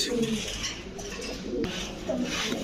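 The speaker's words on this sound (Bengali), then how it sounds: "খুবই সুন্দর কবুতরগুলো এবং খুবই অ্যাক্টিভ" Active old-breed pigeons at a pigeon sale coo repeatedly close by, with low throaty bubbling calls in short overlapping bursts and faint clatter in the background.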